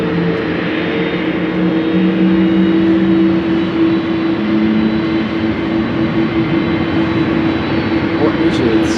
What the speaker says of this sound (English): KLM flight 743 to Lima,